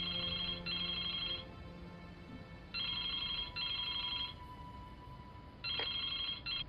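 A telephone rings in the Broken Sword 2 video game, three bursts of electronic trilling bell separated by pauses, clear and steady over a low ambient game background.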